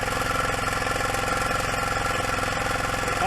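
A small engine runs steadily with the choke off while it smokes, with a fast, even putter and rattling vibration held close and constant throughout.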